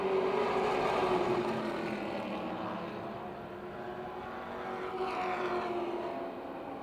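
Race cars in a heat race on the Motordrome Speedway oval, a continuous distant engine roar that swells and fades slightly as cars pass side by side, steady and without speech.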